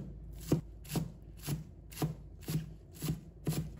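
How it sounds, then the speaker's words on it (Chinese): Knife chopping spring onions into fine pieces on a board: seven evenly spaced, crisp chops about half a second apart, close and fairly quiet, with no talking. "再把一把小葱，把它切成葱花。"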